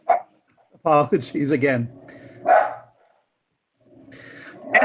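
A pet dog barks in the background of an online meeting, a few sharp barks scattered between and under a person speaking.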